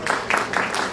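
Audience applause welcoming a speaker at a Korean policy presentation, a brief burst of scattered clapping lasting about a second.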